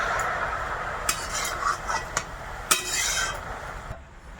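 A spoon stirring prawns and pumpkin in a cooking pot with no water added, giving a few sharp metallic clinks and scrapes over a soft background sizzle.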